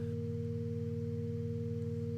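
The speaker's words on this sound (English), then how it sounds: "those frequencies are sent through the glides into a cycle object, which just outputs sine waves" Steady electronic sine tones from cycle objects in a Max patch, several pure pitches sounding together as a constant, unwavering low hum with no speech.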